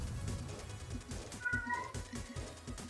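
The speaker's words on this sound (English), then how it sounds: "Why is the kitten crying? Whining." A kitten mewing repeatedly, several short cries spaced through the moment at moderate volume over a steady low background rumble, with no one speaking.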